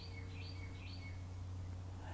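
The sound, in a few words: birds chirping outdoors in Jacksonville, Florida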